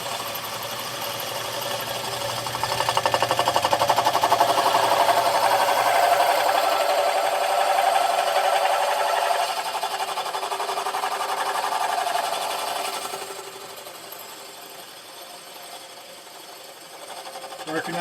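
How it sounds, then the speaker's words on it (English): A boring machine runs steadily in a workshop where chainsaw mufflers are being built, giving a loud, continuous mechanical whir with a buzzing tone that eases slightly near the end. "Working on getting the boring machine dialed in."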